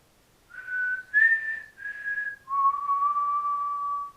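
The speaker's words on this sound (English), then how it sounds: "I'll do a small little whistle and let's see if you can match the tune." A short whistled tune of four sustained notes, rising then dropping to a long low final tone, clear and close in an otherwise quiet room at a lighthouse.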